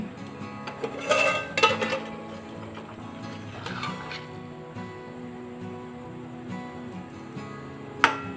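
Lid lifted off a pot of potatoes simmering on low gas for alur bati chochchori: a burst of metallic clattering early, quieter rattles, then one sharp clink near the end.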